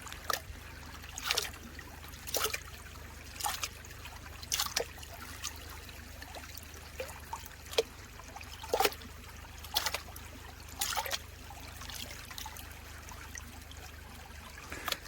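Water sloshing and trickling in a Garrett Super Sluice gold pan during one-handed panning, with rhythmic splashing swirls every second or so over a low steady background, close and fairly quiet.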